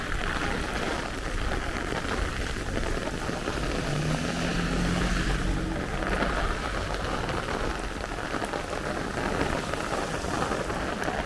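A heavy downpour from a thunderstorm squall line over a Brooklyn, New York street, a loud, steady hiss of rain on surfaces continuing without a break, with a low rumble underneath.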